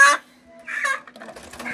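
Home-raised chickens and a rooster cluck in a few short, close bursts, with a loud squawk at the start followed by quieter, uneven clucking.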